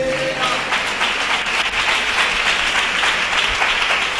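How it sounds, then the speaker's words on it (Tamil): A congregation claps in church during a Tamil Christian sermon, a loud, continuous and even spread of many hands that carries on throughout without any break. "கை தட்டுக்க பார்க்கலாம்."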